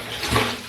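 Hot water gushes from a tap into a bathtub in a short, close, loud rushing splash that swells briefly.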